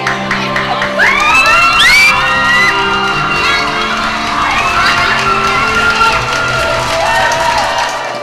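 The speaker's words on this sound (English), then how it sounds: "just the cheer that erupted from these people when they saw these kids" A crowd of people at an airport arrival erupts in loud cheering, whoops and shouts as adopted children arrive after a late plane, sustained and dense throughout with excited voices rising over the din.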